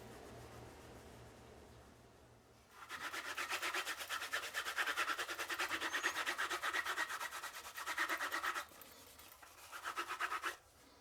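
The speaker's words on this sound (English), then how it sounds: "Then I'll come behind it with a mixture of beeswax and mineral oil rub." A beeswax and mineral oil mixture is rubbed into a leather knife sheath. Close, rapid back-and-forth rubbing strokes run steadily for several seconds, pause briefly, then resume in two shorter bursts, with no talking.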